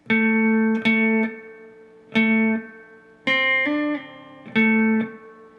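Electric guitar plays part 1 of a song riff at a slow tempo: sustained harmonic chords struck in distinct, spaced groups, loud and clean-toned, with no voice.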